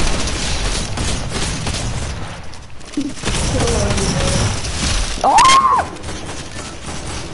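P90 submachine gun fire in a video game, heard as a dense rapid stream of shots close up, with a player's brief exclamation over it.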